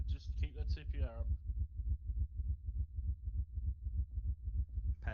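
Rhythmic low heartbeat of a wounded soldier in the military game Arma 3, steady thumps repeating quickly for several seconds, preceded by a brief voice at the start.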